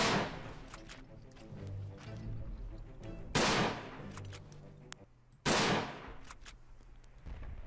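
Gunfire from a weapon in the World War I shooter game Verdun: two loud, sharp shots ring out a couple of seconds apart over a low battlefield rumble, each followed by a decaying echo, with no talking.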